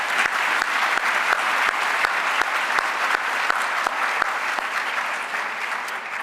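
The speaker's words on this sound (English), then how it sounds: "A round of applause for our sponsors" An audience at an evening event for the Crim Fitness Foundation applauds its sponsors, a dense, steady round of clapping from a large crowd filling the room.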